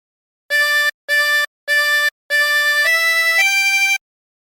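A 16-hole tremolo harmonica plays phrase 3 of the hymn Be Thou My Vision: four repeated short draw notes, then a longer tone that steps up twice in pitch without a break, reedy and shimmering, close and unaccompanied.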